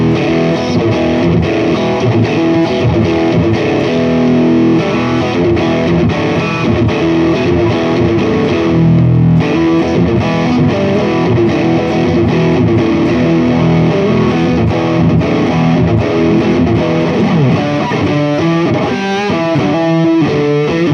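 A distorted electric guitar, a 1950s Stratocaster on its bridge pickup through the Overloud TH2 amp simulator, plays continuously and loudly, chords and notes ringing with a gritty amplified tone, quickening into faster picking near the end.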